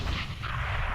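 Grenade blast in Counter-Strike: Global Offensive on the Mirage map, a short dense rumbling burst at close range, with no talk.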